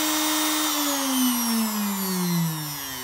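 Electric motor on a universal pillar tool spinning at high RPM, giving a steady close whine whose pitch slides gradually lower over a few seconds.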